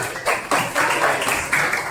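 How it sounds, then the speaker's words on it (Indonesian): Brief applause from a classroom of students for a classmate, a dense patter of clapping hands lasting under two seconds, loud and close. "Ada tepuk tangan buat agak"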